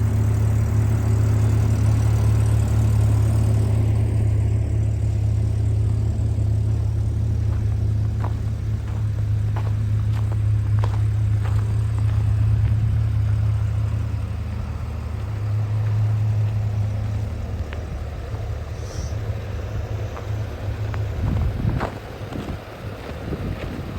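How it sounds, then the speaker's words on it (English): A model 725 tractor engine idles and warms up in winter, a steady low rumble close by that holds for the whole stretch, mixed with outdoor wind noise and occasional clicks. "And of course we got 725 sitting here idling."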